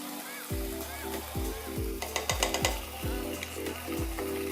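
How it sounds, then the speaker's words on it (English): Chicken stir-fries with red curry paste over medium-high to high heat, making a close, crackling sizzle with a cluster of sharp pops midway, over repeating low tonal sounds. "You want to be able to hear a sizzling sound."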